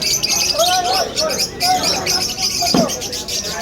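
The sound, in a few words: birds chirping at pet market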